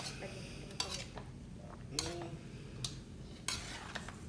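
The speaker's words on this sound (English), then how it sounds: "Mix it again." Beef chow mein with soy sauce is stirred in a pan, giving several metallic clinks and scrapes of a utensil against a steady, low hiss from the cooking.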